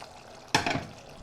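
A brief splash of water poured into a pot of Ethiopian fasting-style red eggplant stew, one short gush that quickly fades, close and quiet.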